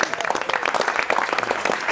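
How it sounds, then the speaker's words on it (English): Applause from the audience at a press conference for the film xXx: Return of Xander Cage, steady dense clapping filling the room for about two seconds with no talk over it. "A round of applause."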